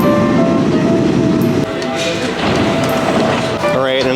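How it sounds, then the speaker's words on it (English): A New York 2nd Avenue Q subway train rumbles loudly and continuously, with a broad roar, rattling wheels and a few tonal whines near the end, heard from close by. "I took the 2nd Avenue Q train down to 63rd and Lex"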